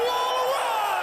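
An arena crowd cheers for OpTic Texas at a Call of Duty match, a loud sustained roar with whoops and shouts filling the whole stretch without a break.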